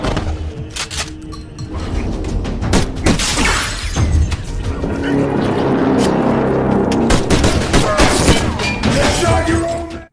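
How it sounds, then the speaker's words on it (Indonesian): A chaotic gunfight in an action film, with bursts of sharp shots, crashing impacts and shattering debris layered over a loud, continuous rumbling background. "Baku tembak pun tidak terhindarkan."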